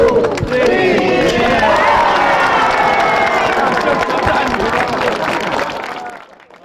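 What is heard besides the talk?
applause from volunteers at Tzu Chi office opening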